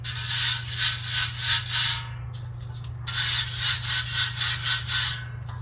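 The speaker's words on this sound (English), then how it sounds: "use your brush, and with a little bit of pressure and elbow grease," A brush scrubs stuck aggregate out of a sieve screen in rapid, rhythmic back-and-forth strokes. The rasping is close and loud, with a short pause partway and a steady low hum underneath.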